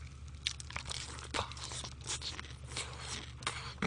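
Sweet-sauced fried chicken crunches between the teeth in close, irregular bites and chews, with faint rustling between them.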